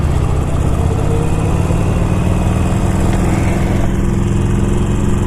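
A 2019 Harley-Davidson Iron 1200 motorcycle rumbles loudly and steadily while riding on a freeway, its engine drone blending with heavy wind rush throughout.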